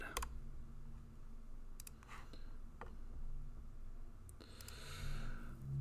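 A few sharp, faint computer mouse clicks spaced irregularly over quiet room hiss, alone without any talk.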